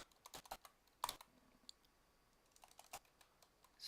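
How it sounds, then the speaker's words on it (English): Someone types on a computer keyboard while working on a Squad SDK map, producing quiet, irregular clicking keystrokes in uneven bursts, close and alone, with no talk. "Excuse my terrible typing."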